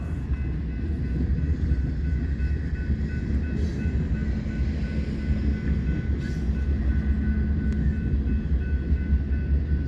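A freight train rolls steadily past, ending with a buffer car and a rear DPU locomotive, giving a loud, continuous low rumble with a faint sustained tone throughout.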